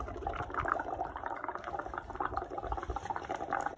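Bubbles blown through a straw into a bubble-printing mixture, a steady close bubbling and gurgling of liquid that runs continuously without pause.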